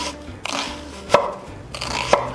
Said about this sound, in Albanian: Po e pres qepën në këtë mënyrë.